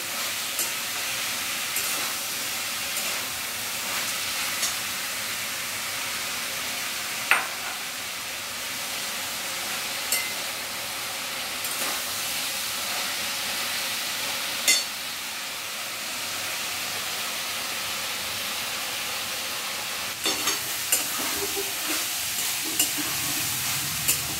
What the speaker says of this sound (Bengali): চিকেনগুলো দিয়ে চিকেনগুলো এর সাথে একটু ভাজা ভাজা করে নেব